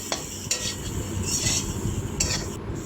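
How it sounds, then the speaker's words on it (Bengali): A spiced mixture of taro and bagda prawns sautés in a pan with ground coriander, chilli and dried red chilli, giving a steady close sizzle broken by a few sharp utensil scrapes and clinks. "আর কষতে থাকবো"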